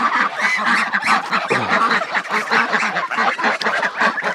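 Domestic ducks and geese crowd around at breakfast feeding time, honking and quacking loudly and continuously at close range in a dense, overlapping clamor.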